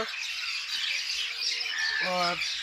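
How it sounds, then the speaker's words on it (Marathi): Many small birds chirp in trees by a Shri Swami Samarth math, a dense, continuous high twittering, with one louder harsh squawk near the end. "परंतु आज या पक्ष्यांच्या चिवचिवाटाने मला"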